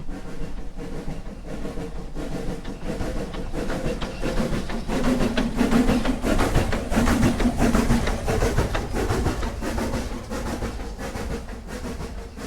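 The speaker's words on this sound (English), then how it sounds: "we got a steam train going up a steep incline, where the engine's going full chug." A steam train laboring hard up a steep incline at full chug, with a steady rhythmic chugging and rumble under continuous noise, loud and sustained throughout.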